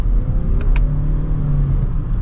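A 2025 Toyota Crown Signia XLE AWD hybrid accelerating in sport mode, a loud, steady engine drone and road rumble heard from inside the cabin.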